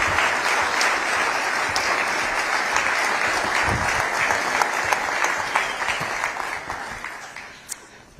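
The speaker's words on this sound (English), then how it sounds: "Big round of applause for Lauren" Sustained audience applause fills an awards-event hall welcoming sportscaster Lauren Sisler, steady and dense for about eight seconds before thinning slightly at the end.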